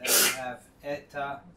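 One loud, sharp sneeze bursts out in the middle of a lecture, and a voice keeps speaking right after it.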